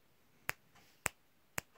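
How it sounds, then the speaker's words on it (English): Three crisp finger snaps, evenly spaced about half a second apart, close and clear against a quiet background with no talking. "sit there and snap your fingers"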